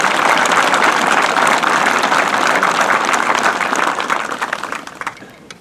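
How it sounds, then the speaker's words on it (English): Loud, sustained applause from a crowd welcoming Honor Flight veterans, steady and dense before tapering off into scattered claps at the end. "Let's give them one more round of applause"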